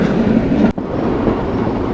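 Steam train carrying passengers on the heritage line from Swanage to Corfe Castle in Dorset, a steady loud rolling rumble of carriages with a brief break partway through, no talk.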